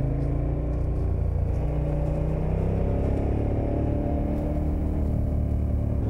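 Motorcycle engine droning steadily while riding a winding mountain road on Corsica, a constant close hum with wind rush and no pauses.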